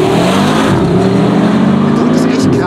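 An Audi RS3 8Y accelerates hard on the LaSiSe race track, its engine roaring loudly and continuously with rising pitch and steady drone throughout.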